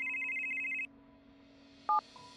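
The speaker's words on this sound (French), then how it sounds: "le téléphone sonne" A telephone ringing with a bright electronic ringtone, one sustained burst followed by a short, faint chirp after a pause, heard alone without any talking.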